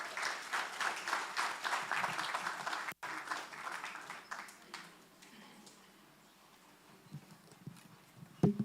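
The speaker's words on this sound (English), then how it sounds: "Please give them a big round of applause." Audience applause at a memorial celebration, a brisk round of clapping that gradually thins out and fades into scattered claps and room noise.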